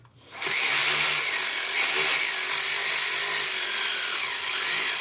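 A ratchet drives the bolts on a Speed UTV primary clutch during a spring upgrade, starting abruptly into a loud, continuous motorized whir that holds steady for several seconds with no talk.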